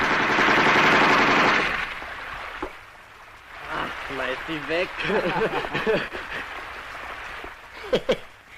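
A burst of rapid gunfire rattles loudly for a couple of seconds, then a person talks, with a few sharp clicks near the end.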